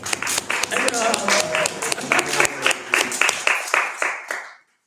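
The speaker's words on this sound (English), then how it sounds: "Let us clap for Niveshana." Audience clapping for Niveshana Prabhu during a japa workshop, a steady round of applause with distinct claps that gradually thin out and fade to silence near the end.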